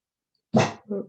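A single loud, close dog bark indoors, a sharp burst followed by a shorter second yelp, in an otherwise quiet room.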